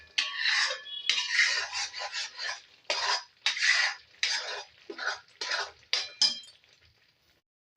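Milk cream cooked down to khoya in a pan while a spoon scrapes the base steadily. The sound is close, rhythmic and gritty, in repeated strokes with brief pauses, ending in quiet. No one speaks.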